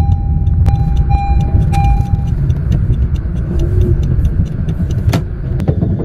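A car in traffic on the way to a fuel station, a steady close engine and road rumble running throughout, with small clicks and a few brief higher tones on top.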